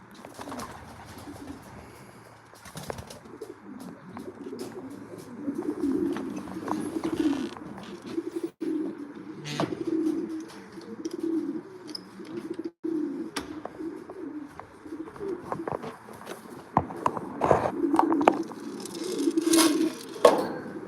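Racing pigeons cooing inside a loft, soft repeated throaty coos from several birds close by, with occasional wing flutters and rustling, faint and steady throughout without talking.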